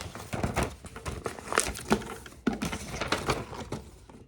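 Paper being folded and creased by hand for a homemade lantern, heard as close, irregular crinkling and soft crackles with small taps, no talking.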